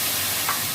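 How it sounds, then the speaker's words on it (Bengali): Ground ginger and tomato paste go into hot oil for tempering, producing a continuous close, broadband sizzle with one small swell midway and no voices. "আর এই আদা আর টমেটো বাটাটা দিয়ে দিলাম"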